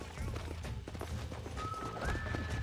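Horse hooves clopping along with a neigh in the video game Red Dead Redemption on Xbox 360, set against a dense game soundscape with a rising tone near the end.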